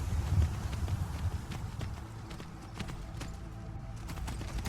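Horse hooves clip-clopping steadily on an evening ride toward ruins in Skyrim, a close, even rhythmic gait running throughout beneath a low outdoor ambience.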